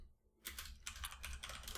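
Quick bursts of typing on a computer keyboard clatter close by after a brief quiet moment, the keystrokes coming in short uneven runs.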